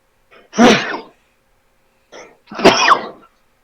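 A sharp, loud sneeze bursts out close by, followed a moment later by a smaller catch of breath and a second forceful sneeze, then silence.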